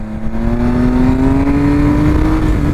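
A Triumph Speed Triple RS 1050 motorcycle being ridden, its engine holding a loud, steady drone close by that slowly climbs in pitch as it pulls, with no talk over it.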